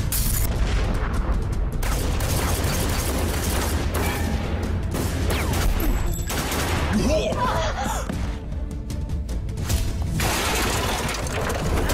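A film shootout plays out with bursts of gunfire, sharp cracks and clattering impacts over a dense, busy soundtrack, loud and continuous throughout.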